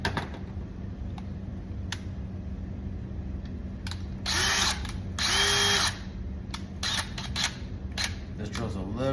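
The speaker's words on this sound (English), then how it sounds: "This drill's a little bit broken" A slightly broken electric drill whirs in two short bursts, the second slightly longer, amid background rattling and handling noises, while installing a motor box on a Valiant 10cc.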